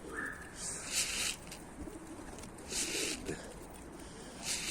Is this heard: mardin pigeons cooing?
yes